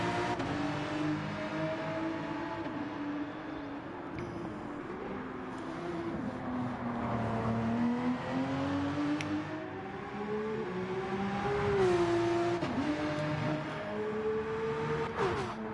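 A DC Team Porsche race car, number 9, competing in the Bathurst 12 Hour 2023, its engine note rising and falling steadily through gear changes for the whole stretch, loud and continuous with no talk over it.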